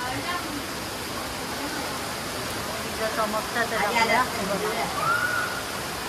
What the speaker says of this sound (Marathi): पावसाचा आवाज बघा, इथे मस्त पाऊस पडतोय